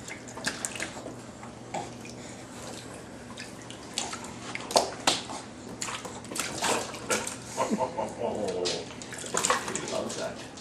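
Water splashes and pours in irregular bursts while a pet is being bathed, close and intermittent, with people talking quietly in between.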